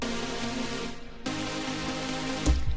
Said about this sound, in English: these are just the basic EDM pluck things that people love using for chords